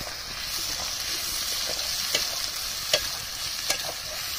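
Onions fry in a pan at an outdoor picnic in Chandpur, Malda, cooking for cauliflower chicken; a steady broadband sizzle runs throughout, with a few soft scrapes of stirring.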